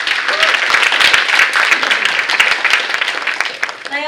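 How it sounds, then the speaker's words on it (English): Audience applause for panel speakers at a live show, a dense wash of clapping that holds steady through the clip, with some voices mixed in. "give a fast clap for those amazing speakers"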